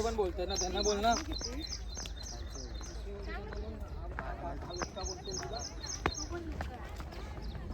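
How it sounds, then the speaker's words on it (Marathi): Birds chirp in quick repeated bursts, high and fairly close, while a person talks through most of it over a soft background hum. "पक्ष्यांचे आवाज"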